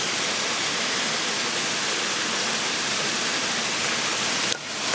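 A river waterfall pouring in a dense, loud, steady roar of rushing water, close by, cutting off abruptly near the end.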